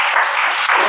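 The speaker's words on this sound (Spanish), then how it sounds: "¿Cuántos dan un fuerte aplauso a la palabra de Dios?" A church congregation claps together during a Spanish-language sermon on God's love and wrath, producing a short, dense, steady burst of applause filling the room.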